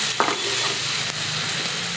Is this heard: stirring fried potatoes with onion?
yes